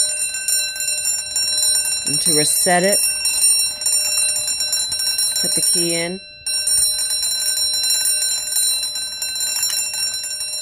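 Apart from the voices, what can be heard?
bell ringing on a FireLite BG-8 fire alarm pull station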